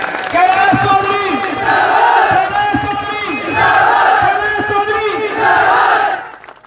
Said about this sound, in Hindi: जोरदार तालियों से स्वागत करें कैलाश चौधरी।